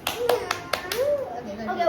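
A few quick, sharp hand claps ring out close by, mixed in with a person speaking.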